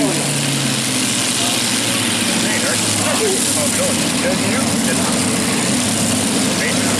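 Super modified pulling tractor engines running at a night tractor pull event, a dense continuous roar from multiple engines, loud and steady throughout.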